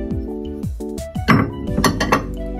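Antique Edo-period ceramic plates, some repaired with kintsugi, clink and ring as they are set down and shifted, several bright resonant knocks close by.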